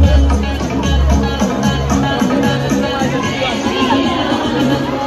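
A dense crowd at a Jai Shri Ram rally in Kalyan, a steady loud babble of voices and cheers over deep rhythmic drumming and music.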